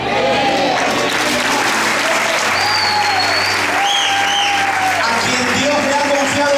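A church congregation in Villa de Mayo applauding in praise, dense sustained clapping that fills the hall while a voice speaks over it and tonal music sounds in the background.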